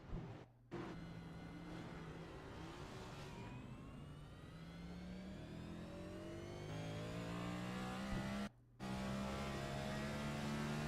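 A race car engine in the iRacing sim revs and climbs steadily through the gears on the Chicago Street Course, its pitch sweeping upward, with two short cuts in the sound.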